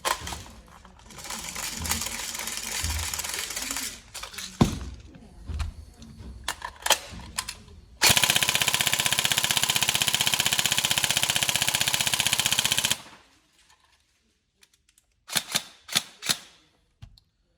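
A Tokyo Marui MK18 next-gen recoil shock airsoft electric gun fires in long full-auto bursts, a loud rapid mechanical rattle of gears and piston, with shorter bursts and brief single shots toward the end.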